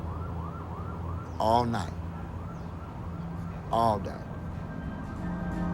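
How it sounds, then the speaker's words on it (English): Emergency vehicle sirens wail in repeated rising and falling sweeps at a moderate distance, continuing under two brief spoken phrases. "Sirens, huh? How about if they're going on all night and all day?"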